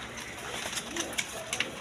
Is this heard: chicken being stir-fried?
no